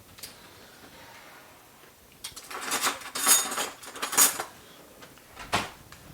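A whisk and other kitchen utensils clink and clatter against pans and bowls while shrimp Alfredo is being made, with faint, scattered metallic taps that come in bursts.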